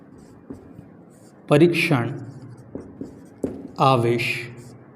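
Chalk or marker scratches across a board during a class physics lesson in short scraping strokes, while a teacher talks over the writing.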